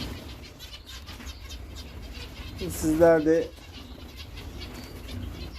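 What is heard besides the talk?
zebra finches fluttering, flapping wings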